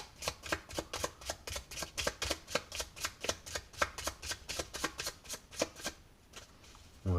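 A deck of playing cards riffled and shuffled repeatedly by hand during a card trick, giving a fast, even run of crisp ruffling bursts close up. A brief pause and a soft thump follow at the end.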